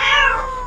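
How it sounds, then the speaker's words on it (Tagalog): A cat meows loudly at night, one drawn-out, crying call that tails off, close and alone with no talk. "Ngiyaw lang ng ngiyaw yung pag alas 12 na ng gabi."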